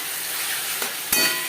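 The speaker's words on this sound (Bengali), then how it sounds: "চিকেন বেশ ভালো করে মিক্স করে নেব" Chicken frying in a pan with chilli paste for chicken ghugni, a loud, close, hissing sizzle with a couple of quick scraping stirs.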